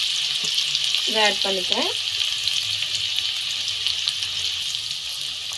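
Chopped onions frying in melted butter give a steady, loud broadband sizzle that runs throughout, with a voice speaking briefly over it near the start.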